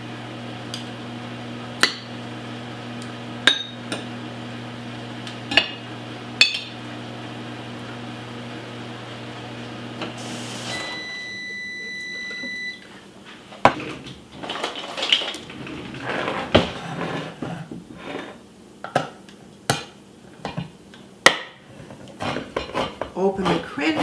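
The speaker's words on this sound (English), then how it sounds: "I'll just cut the turkey in small little slices" A knife cuts cooked turkey into small slices, giving sharp, irregular taps and clicks against a cutting board. A steady kitchen hum runs underneath at first, then a busier stretch of scraping and tapping follows.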